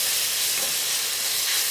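Ginger garlic paste sautéing in an electric cooker while preparing dum egg biryani: a steady, close hiss of frying and sizzling throughout, with no voices.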